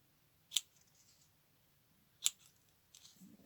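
Scissors trimming paper tabs for a junk journal: two crisp, close snips about two seconds apart, then a faint rustle of paper, in a quiet room.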